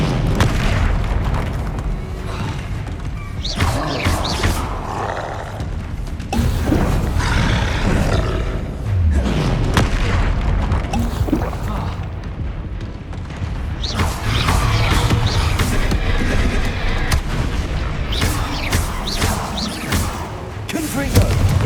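Confringo explosion spells in Hogwarts Legacy on PS5 let out loud, rumbling booms and roaring blasts, layered in a continuous, heavy stream of battle effects.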